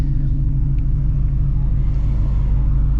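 Ford Shelby GT350 engine droning steadily while driving at night, a loud, continuous low rumble with a deep, even tone and no speech over it.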